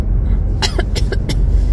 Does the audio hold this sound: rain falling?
no